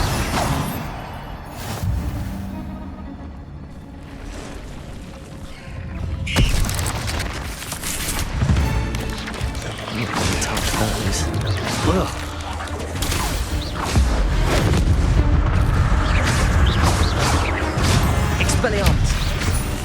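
Incendio fire spell cast in the Hogwarts Legacy video game, a burst of whooshing flame and crackling impacts amid a dense, loud stream of other spell effects, with game voices over the clash.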